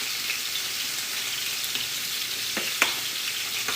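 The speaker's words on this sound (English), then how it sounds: "And we're gonna give this a little stir" Garlic and garlic salt are stirred in a hot pan, giving a steady close sizzle with a few soft scraping strokes from the spoon.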